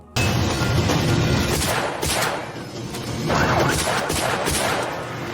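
Rapid pistol and rifle fire in a police action film scene, a dense barrage of loud, close shots with crashing impacts, sustained throughout with brief lulls between volleys.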